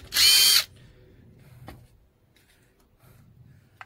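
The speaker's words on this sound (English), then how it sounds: "So just drill it, and then" A power drill boring a hole during installation of an auto electric tailgate on a Toyota Land Cruiser LC300, one loud burst of drilling lasting about half a second near the start, followed by faint handling clicks and quiet.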